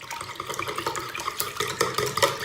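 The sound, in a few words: whisking cheese and salt filling for börek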